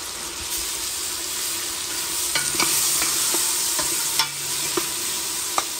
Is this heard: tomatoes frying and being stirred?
yes